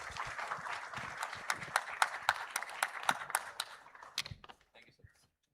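An audience at an e-governance conference in Jaipur applauds a panel, with moderate clapping and sharp individual claps that thin out and die away into silence near the end.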